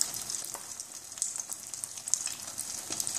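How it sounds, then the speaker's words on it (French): Brik pastry frying in hot oil, a dense close crackling sizzle with scattered sharp pops, steady throughout and without talking. "On vient la mettre dans l'huile qui est déjà chaud."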